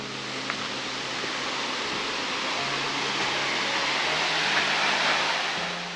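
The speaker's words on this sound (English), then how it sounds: "I can hear the waterfall." From an upper viewing platform, a waterfall makes a faint, steady rushing hiss in the distance, an even wash of noise that swells slightly and fades toward the end.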